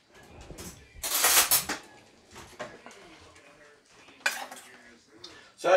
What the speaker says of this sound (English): So we'll just stir that up and set it off to the side.